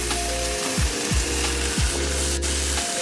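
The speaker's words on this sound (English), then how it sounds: "Y'all hear that sizzle?" Steady, close sizzling of steak frying in a hot pan, with a few low clunks and scrapes of the pan over the continuous hiss.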